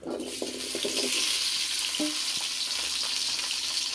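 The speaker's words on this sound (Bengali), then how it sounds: "সব রকমের সবজিটা ভেজে নিচ্ছি।" Vegetables, including cut potatoes, sizzle and fry in mustard oil in a pan, a steady loud crackling hiss with a few spatter pops and clinks of stirring.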